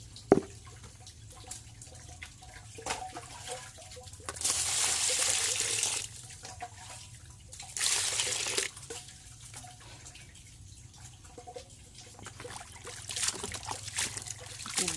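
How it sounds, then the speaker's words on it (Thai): Pickled bamboo shoots being washed under running water, a soft trickle and drip with two louder gushing bursts of flow, close and fairly quiet, with no talk. "เราก็จะเอามาล้างอีกรอบหนึ่งนะคะ"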